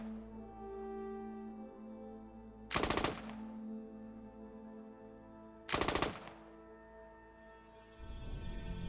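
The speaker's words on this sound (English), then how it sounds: "So here we have the beast, the saw, and I'm just going to put some hip fire and short burst down there" The SAW machine gun in the video game Squad fires two loud short bursts a few seconds apart, hip-fired toward a wall, with quiet ambient game sound between them.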